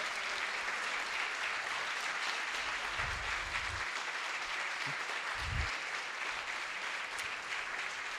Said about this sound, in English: You can give it a round of applause now for everybody